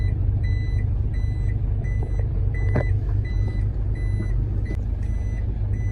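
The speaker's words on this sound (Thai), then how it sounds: "โค้งหักศอกอีกนะครับ มาแล้วตัวแรงห้าร้อยห้า" A heavy KM 505 truck works through a tight hairpin bend on a narrow, newly concreted lane, its engine rumbling loud and steady while a repeating reversing beep sounds throughout.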